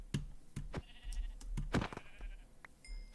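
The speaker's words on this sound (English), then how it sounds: "Oh, sheep. I'm just going to get some more wool, I think." Sheep bleating in Minecraft: several short blocky bleats in quick succession, close and fairly loud, with game effects and a brief chime near the end and no talk.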